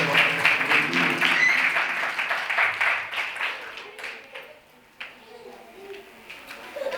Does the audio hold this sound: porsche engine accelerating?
no